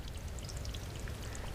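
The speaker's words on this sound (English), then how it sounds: "water keeps trickling through, keeps the mosses green" Water trickles steadily through a small frozen waterfall coated with green moss and fallen tree debris, a soft, continuous close-up patter and splash with no voices.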